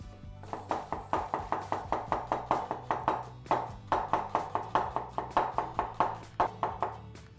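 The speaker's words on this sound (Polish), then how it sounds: "Cebulkę kroimy dość drobno, to znaczy cienko." A knife chops onion finely on a board in a steady, rapid series of crisp taps, close and fairly loud, with short pauses between bursts and no talking.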